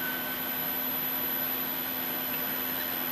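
A Mikini 1610L milling machine spindle runs at 1000 RPM, a steady, even motor hum and whine that holds constant and alone throughout, fairly quiet with no speech.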